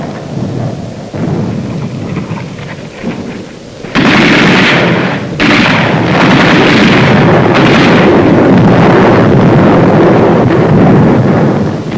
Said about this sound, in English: Mortar and artillery were deadly accurate by reason of excellent enemy observation from Mount Lunga